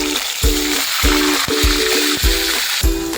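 Onion paste sizzling loudly in hot oil with bay leaf, whole garam masala and cumin, a steady frying hiss broken by regular stirring knocks about every half second, close and without talk.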